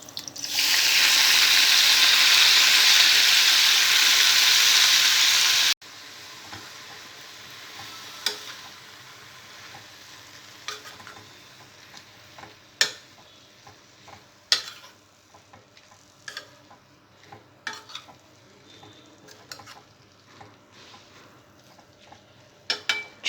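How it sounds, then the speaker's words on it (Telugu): Sorrel leaves (chukka kura) hit hot oil in the pan where green chillies were just fried: a loud, bright sizzle for about five seconds, then a quieter simmer broken by scattered clicks and taps of stirring. "పచ్చిమిరపకాయలు ఫ్రై చేసుకున్న ఇదే ప్యాన్లో చుక్క కూర వేసుకోవాలి"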